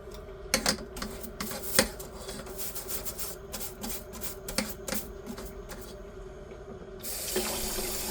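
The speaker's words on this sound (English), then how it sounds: "So now I got to put a little extra cleanup muscle into getting this dried stuff off of the" Dried residue is scrubbed off a kitchen strainer under a running tap, a steady water hiss with repeated short scraping and rubbing strokes throughout, then the water flow grows louder and brighter near the end.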